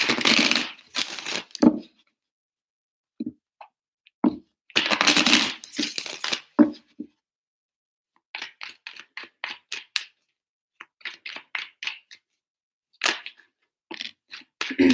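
Tarot cards are shuffled in several short, crisp riffling bursts with quiet gaps between them, followed by lighter rapid flicks and taps close to the microphone.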